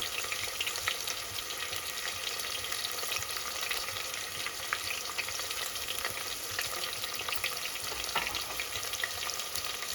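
Fresh mint and four sliced green chilies sizzle in hot tempering oil for a goat head curry, a steady, dense crackling hiss that runs without a break, close and alone.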